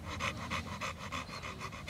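An American Bully dog pants steadily and close by, with quick rhythmic breaths repeating about every quarter second, clearly heard with no talking.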